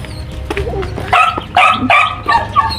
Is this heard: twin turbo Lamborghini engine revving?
no